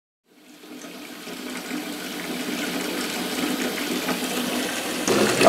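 Water pours steadily into an ice-chest converted into a 12-gallon, 12V off-grid water heater tank, a continuous splashing fill that builds gradually louder over several seconds with no talking.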